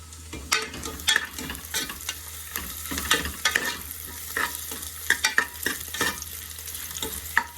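Kaltappam topping fries in a pan, with a soft sizzle under repeated scraping and stirring strokes that come in quick, uneven bursts, close and fairly clear.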